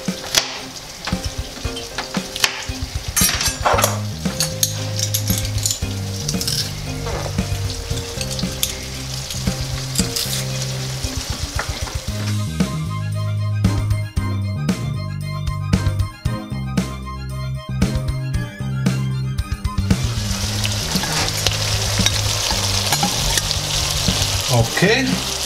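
Garlic sizzles loudly in a hot pan for Chinese fried noodles, a steady crackling fry running throughout with brief clinks and stirring noises.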